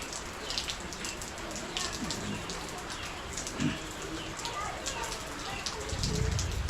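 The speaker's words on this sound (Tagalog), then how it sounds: "Umuulan naman ngayon" Heavy rain pours steadily outside by a small garden and creek, a dense, even hiss that fills the whole stretch, with a low rumble swelling near the end and a person speaking faintly underneath.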